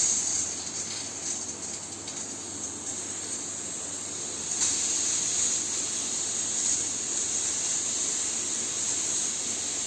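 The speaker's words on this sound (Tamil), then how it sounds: "இப்போ பார்த்தீங்கன்னா குக்கர் 3 விசில் விட்டு வந்துருச்சு" A pressure cooker in a home kitchen vents steam with a constant broad hiss that grows a little stronger midway and carries steadily to the end, with no voices.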